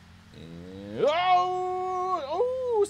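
A vehicle engine in a battle royale driving game whines with a rising, meow-like tone that climbs sharply, holds steady, then dips and rises again, sounding close and fairly loud, much like a cat's meow.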